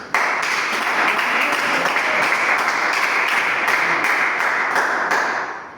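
Applause from a church congregation clapping their hands, a dense and steady wash of many claps at a fairly loud level that holds for several seconds and then fades out at the end.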